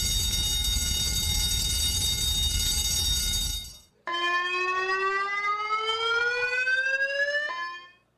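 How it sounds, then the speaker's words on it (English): A university emergency alarm sounds loud and steady for about four seconds, then cuts to a rising, wailing electronic siren tone that sweeps upward and stops abruptly. "If you hear this alarm, it signifies that there is an emergency."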